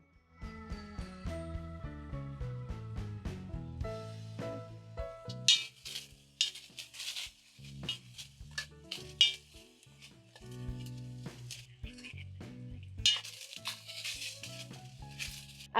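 Mango jam stirred in a pot on low heat, with repeated clinks and scrapes of a utensil against the pot, light metallic tinkles, and quiet bubbling in between.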